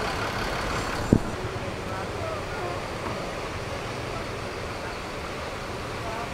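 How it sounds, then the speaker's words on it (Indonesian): A bus rumbles as it shifts position at an Indonesian bus terminal, a steady engine and traffic drone with one sharp short burst near the start. "Geser posisi bus Palala"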